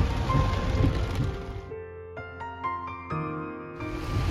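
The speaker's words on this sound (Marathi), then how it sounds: "सेम टू सेम पिंपरी चिंचवडला आज लिटरली ढगफुटी झालेली आहे" Very heavy cloudburst rain in Pimpri Chinchwad roars close and loud, then cuts out briefly to a ringing tonal passage before the downpour returns; no voices are heard.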